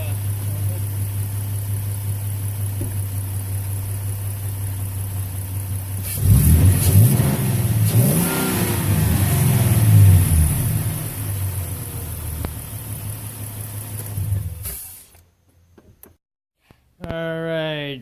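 Ford F-150 with a 3.7 V6 and AFE Magnum Force Pro dry cold air intake idles steadily up close, then revs in several loud rising bursts before settling and shutting off near the end.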